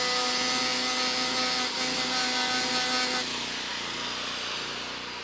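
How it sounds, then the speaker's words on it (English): Sandpaper rubbed over a wooden edge, a steady close scratchy rasp running continuously and easing slightly toward the end, with no voices. "Sandpaper is going this way from the flat over the edge, not the other way around."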